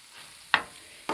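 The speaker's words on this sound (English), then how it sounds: "I'm going to give this a stir to incorporate everything" A spoon scrapes twice through a thick dip in a cooking pot, two short, crisp strokes evenly spaced against a quiet, faintly sizzling background.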